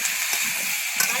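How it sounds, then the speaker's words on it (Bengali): White potato curry fries in a pan, giving a continuous close hiss and sizzle with soft stirring scrapes from a spatula. "আর এদিকে কিন্তু আবার তরকারি ভাজতে হচ্ছে"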